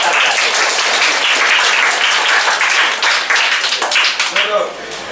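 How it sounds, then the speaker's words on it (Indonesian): A classroom of students applauds a classmate, dense steady clapping close by and fairly loud for about five seconds, with some voices mixed in before it thins out at the end. "Tepuk tangan untuk Mas Arda."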